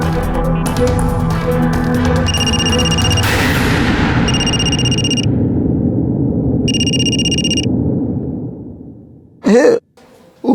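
Repeated electronic ringing tones of a phone call play over a loud sustained whoosh, then quiet, followed by short bursts of a voice at the end.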